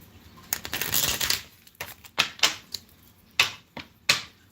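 Tarot cards shuffled by hand: a longer riffling burst followed by several sharp, separate card slaps and flicks at irregular intervals, close and crisp with no voices.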